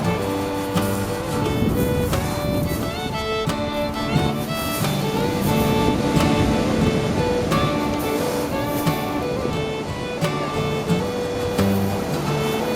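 Waves break steadily on Chesil Beach, Dorset, a loud continuous roar of surf washing over shingle, with no talking.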